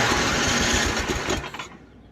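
A rebuilt snowblower engine runs loud and close, a dense buzzing roar with rapid chatter that cuts off sharply after about a second and a half, leaving a fading rumble.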